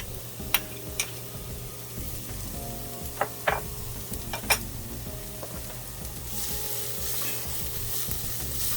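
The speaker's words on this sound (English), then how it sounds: "Actually, let me saute this for a minute before I add the garlic." Onions and garlic sizzle in a pot as the base for pinto beans with turkey, a steady close frying crackle with occasional sharp clinks and scrapes of a utensil stirring against the pot.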